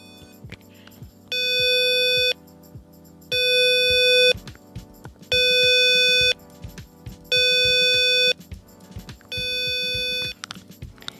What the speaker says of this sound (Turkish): Gördüğünüz gibi telefon arama sesine benzeyen bir ses çıkartıyor şu anda